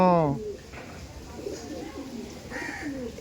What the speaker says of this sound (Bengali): এগুলো তো মেনলি সব গরমের পায়রা নাকি?